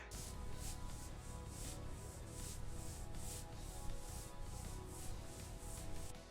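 Camel leather product edges being cleaned in a factory: steady, rhythmic rubbing strokes, soft and close, repeating roughly twice per second with a continuous hiss underneath.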